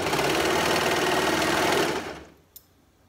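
A Brother Lock 2504D overlocker stitches fabric with a fast, steady mechanical whir for about two seconds, then winds down to silence, followed by a single small click.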